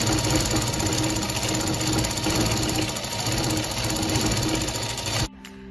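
A sewing machine stitches fabric for a baby bonnet, a loud, fast, steady mechanical chatter running continuously for about five seconds before stopping abruptly.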